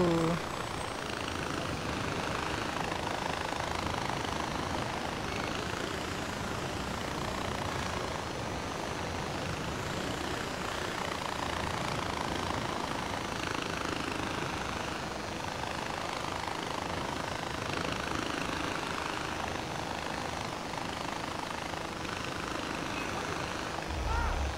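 Helicopter engine in a video game, a steady whirring drone holding evenly throughout, moderately loud and continuous.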